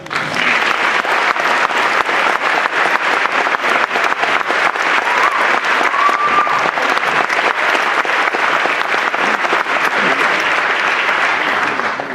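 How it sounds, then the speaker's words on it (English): Audience at a student peace prize ceremony gives sustained, dense applause, loud and steady throughout with no speech over it. "So, please give him a welcome applause."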